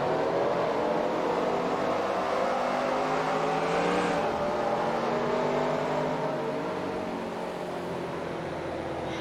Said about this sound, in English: come and join me for a quick 30 lap race around Atlanta Motor Speedway in a Nascar